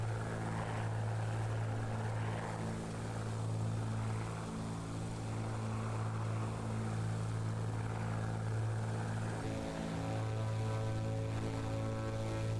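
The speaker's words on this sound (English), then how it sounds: "Let's hear the engine." A Bonanza's piston engine and propeller droning steadily in a flight simulator, a continuous close, even hum with a low tonal buzz, with no voices over it.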